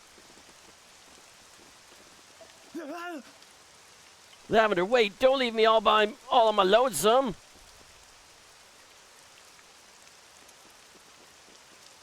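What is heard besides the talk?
gray rain falling, from video game Dragon Quest VII Reimagined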